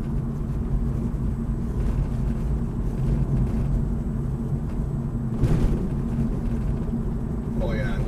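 A homemade electric conversion of a BMW E36 cruises in fourth gear with a steady low road and drivetrain rumble and a faint motor whine, while someone talks over it throughout.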